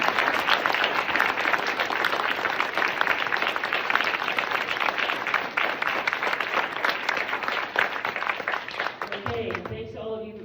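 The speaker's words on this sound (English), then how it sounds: "please join me in giving another huge round of applause for these 3 candidates" At a county executive candidate forum, an indoor audience gives a loud, dense round of sustained clapping that fades out near the end as a voice begins speaking.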